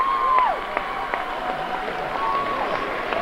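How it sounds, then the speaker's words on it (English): A crowd cheers and claps at a girls' basketball sectional final, a broad diffuse roar of fans with sharp whistles and squeaks cutting through, moderately loud and distant. "Both sides cheering for their teams"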